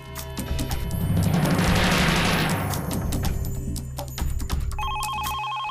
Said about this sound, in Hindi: केशव काका फोन बज रहा है,